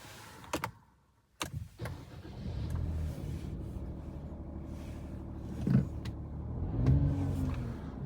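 A Peugeot 2008 GT engine cranks and catches after a couple of door or cabin clunks, then settles into a steady low idle rumble that swells slightly near the end, heard from inside the car with no talking.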